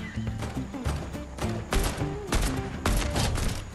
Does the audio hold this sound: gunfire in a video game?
yes